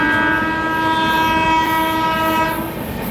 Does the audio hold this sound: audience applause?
no